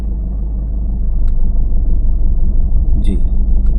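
A car creeps forward on clutch alone without accelerator during a driving lesson, a low steady engine rumble close inside the cabin, with people talking over it.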